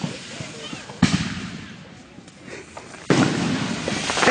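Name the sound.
fireworks exploding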